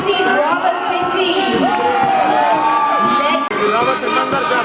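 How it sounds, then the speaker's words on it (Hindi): A crowd at a hockey championship march-past in Lahore cheers and shouts loudly and steadily, with children's voices mixed in. An announcer's voice carries over the crowd throughout. "मैं चाहूंगी आप सब दिल खोल के तालियां बजाएं"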